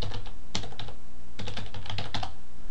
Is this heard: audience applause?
no